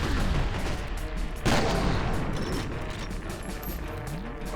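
A grenade blast in the shooter game F.E.A.R.: Perseus Mandate, a loud broadband burst about a second and a half in, set amid continuous gunfire and battle noise that runs throughout the clip.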